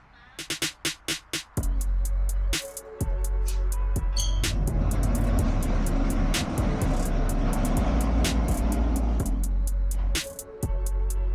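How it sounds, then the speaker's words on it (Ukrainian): A new enduro motorcycle rides past, its engine building from a few sharp bursts into a sustained, loud roar before cutting off near the end, heard alone outdoors. "мотоцикл їде."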